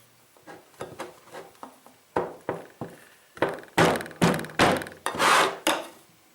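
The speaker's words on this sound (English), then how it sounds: "Why is it so hard to get the lid on grease?" The lid of a copper grease tin is worked back on in a motorcycle garage. A run of dull, close knocks and thunks repeats unevenly and grows louder toward the end.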